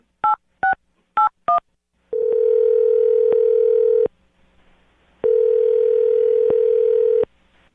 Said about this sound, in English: I'm gonna dial the phone number right now though and get her on the phone